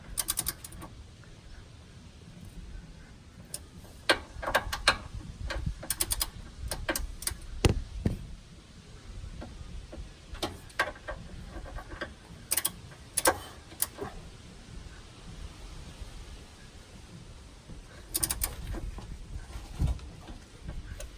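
Bolts are torqued back and forth during a Slam Specialty airbag install on a Chevrolet Silverado, giving sparse, sharp ratchet-like clicks in irregular clusters over a quiet background.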